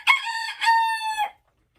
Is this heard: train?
no